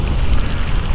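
Rain and road spray hiss around a Voltz EV1 electric motorcycle riding through wet traffic, a dense low rumble of water and wind filling a brief, loud stretch with no voice.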